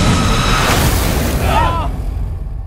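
A loud boom bursts out of an escape room movie trailer, a heavy explosion rumbling under dense dramatic sound design and scoring while voices speak over it.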